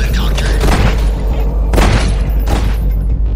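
Loud booming gunshots in the horror shooter Nightmare House 2 are fired as repeated bursts, roughly three heavy blasts, over constant low rumble.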